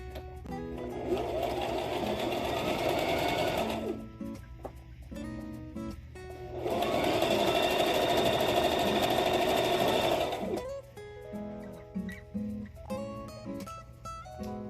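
A sewing machine stitches quilt block seams for a churn dash block in two long, steady runs of rapid needle chatter, separated by a pause filled with quieter clicks and handling noises; no talking.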